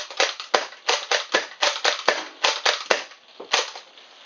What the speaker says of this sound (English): I'm going to now cock it back and I get to fire two at once.